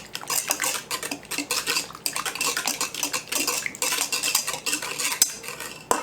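Vegetable oil being stirred into a cake-bar batter in a mixing bowl, a close, continuous scraping and clinking of a utensil against the bowl with steady rhythmic strokes, no talking.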